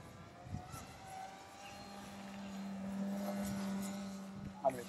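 An aerobatic plane rolling from inverted to knife edge, heard as a steady engine drone with wind buffeting across the microphone and a sharper gust near the end.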